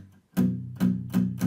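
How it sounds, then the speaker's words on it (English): Palm-muted guitar strums hit four times in an even rhythm, each a short, thick, damped chunk played close up after a brief quiet moment. "I'm getting that palm muted sound"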